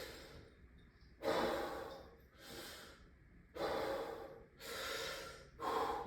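Deep belly breaths taken during a pelvic floor stretch, close and soft: several slow airy inhales and exhales in a repeating rhythm with quiet pauses between, no talking.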